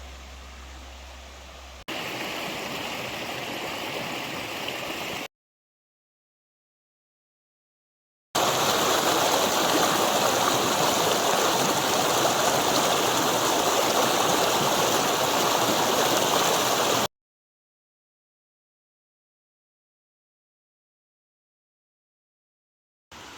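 A river flows in a steady, broadband rush of moving water, heard alone in two sustained stretches broken by silent gaps, with the second stretch louder and closer.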